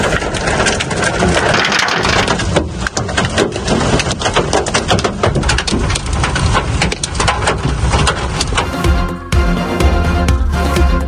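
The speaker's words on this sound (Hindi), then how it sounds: "मूसलाधार बारिश के साथ यालाबारी।" Torrential rain with hail pounds down loudly and continuously as a dense, crackling roar, with a few heavier impact bursts near the end and no voices.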